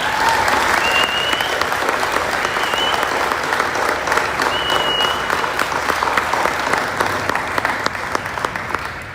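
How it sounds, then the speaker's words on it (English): Audience applause for a fire rescue cadet class at an induction ceremony, a loud, dense, continuous clapping crowd sustained throughout. "everybody give them a big round of applause"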